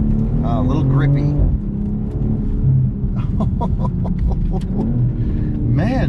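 A 2022 BMW M440i Gran Coupe engine pulls hard under acceleration, a loud continuous drone with rising pitch sweeps and a gear change, while someone talks over it.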